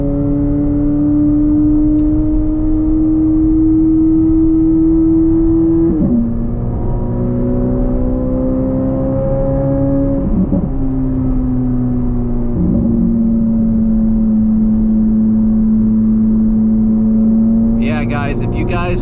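Chevrolet Corvette C8 Z06 engine driving, a loud steady drone with harmonic tones that shift as revs change and gears swap, heard from inside the car throughout; a brief rattle near the end.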